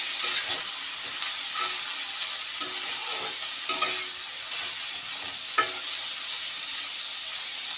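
Vegetables and chopped beans stir-fried in a pan for fried rice, giving a steady bright sizzle with scattered scraping stirs, close and continuous, with no talking.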